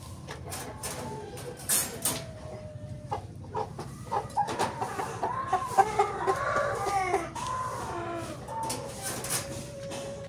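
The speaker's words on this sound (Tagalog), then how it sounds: "At ready for release na itong manok na to." A recovering chicken clucks and coos close by in repeated short calls, joined by other birds, over a low steady background hum.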